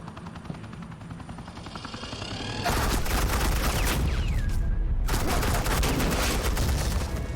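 Suppressing gunfire in the Telltale Batman game bursts in loud and sustained after a quieter lead-in, a dense fusillade of rapid shots with booming, rotor-like rumble, briefly dipping before resuming at full intensity.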